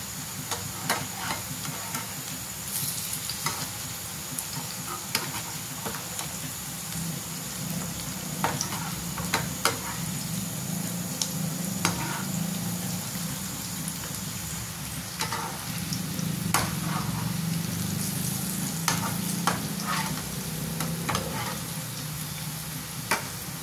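Soaked lentil bhaji fritters frying in oil over a full flame, a continuous close sizzle and bubbling broken by occasional light clicks of a slotted spoon turning them.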